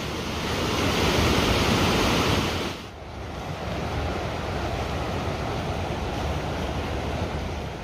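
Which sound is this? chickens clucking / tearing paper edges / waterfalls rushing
waterfalls rushing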